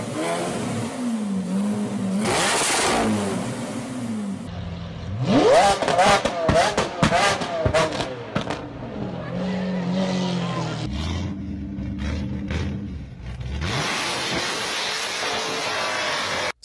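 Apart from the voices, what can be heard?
car with loud exhaust revving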